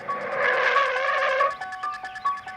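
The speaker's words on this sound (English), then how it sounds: "the car comes to a screeching halt." Car tires screeching as a car skids to a halt in the 1978 film Halloween, a loud squeal for over a second, then fainter tonal squeaks trailing off.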